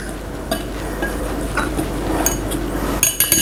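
All-purpose flour, salt, baking powder and baking soda are stirred together in a bowl for a banana upside-down cake, giving soft scraping with light utensil clinks against the bowl and no talking.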